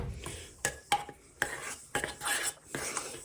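Confectioners' sugar being stirred in a bowl for peppermint patties, with a utensil scraping and clinking against the bowl in a series of sharp, separate knocks and short scrapes, close up and with no voice.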